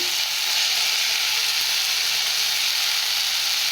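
Mango pieces fry in a pan with onions and salt, a steady loud sizzle that holds evenly throughout with no talk.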